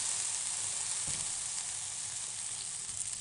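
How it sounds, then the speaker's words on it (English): Whale meat that has been briefly fried sizzles steadily as it is tipped in with the other beef-stew ingredients, a dense, continuous hiss of frying with one small clunk partway through and no voices. "I've fried the meat a little, and now it's time to add it to the rest of the ingredients"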